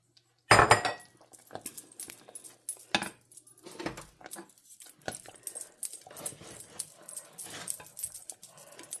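A spoon clinks and scrapes as a lima bean casserole with Swiss cheese is stirred in a pot, with a sharp first knock followed by busy, close metallic stirring.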